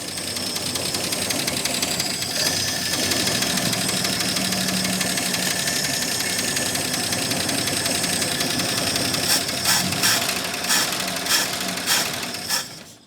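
A long-abandoned AMC Rebel engine runs with no fan belt, idling with a rough, knocking mechanical clatter and a steady drone, then revving a little near the end.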